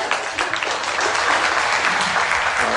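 Keynote audience applauding steadily and fairly loudly throughout, a dense continuous wash of many hands with a faint voice beneath.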